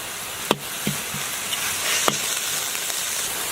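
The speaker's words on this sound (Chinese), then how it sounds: "猪肉炒变色，来点生抽、老抽" Minced pork sizzles steadily in a wok after the aromatics, with soy sauce going in. A few sharp spatula scrapes and knocks cut through the close frying hiss, and no one speaks.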